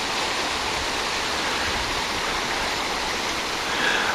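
A brook swollen by nor'easter rain rushes steadily, a broad constant wash of flowing water close by with no voices.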